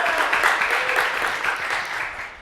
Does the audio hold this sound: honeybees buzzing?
no